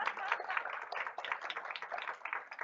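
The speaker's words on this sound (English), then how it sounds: "Round of applause, please" Board meeting audience applauding after staff are asked to stand, steady dense clapping at moderate level throughout, fairly near and sustained without a clear break.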